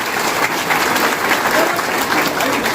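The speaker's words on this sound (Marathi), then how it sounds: "आपण जवळ टाळ्या वाजायच्या आहेत" Audience at a political party induction event clapping together in a steady, dense burst of applause that fills the room at close range.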